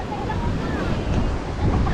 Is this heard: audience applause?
no